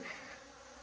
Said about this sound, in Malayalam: ഇതവിടെയൊക്കെ തേനീച്ചയാണ് നല്ല കുത്തുന്ന തേനീച്ച തോന്നുന്നുണ്ട്